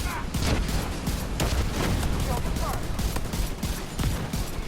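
Rapid, dense gunfire from a Division 2 raid fight pounds on continuously, with many sharp overlapping shots and booms close and loud, as a voice talks underneath.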